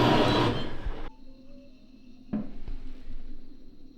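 A GE Profile top-load washing machine starts up and begins its sensing cycle: a loud opening burst of mechanical noise cuts off, then steady faint whirring tones with soft clicks, and a renewed rumbling thump near the end.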